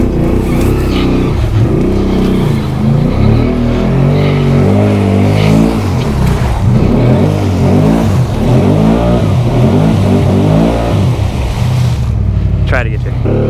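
A Can-Am Outlander 650 XMR ATV accelerates hard through swamp mud, its loud engine revving continuously over splashing and churning water, close to the microphone.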